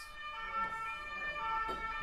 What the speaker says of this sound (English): Cue the siren outside.